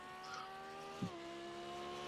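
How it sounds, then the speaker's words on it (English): A GT3 race car in the iRacing game at Long Beach drones steadily with a tonal engine whine, shifting pitch briefly as it passes, at a moderate level with no talking. "Could hear the car roaring through."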